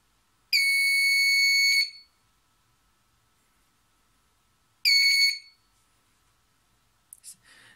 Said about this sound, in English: the LED we had used here start to glow and the buzzer start to buzz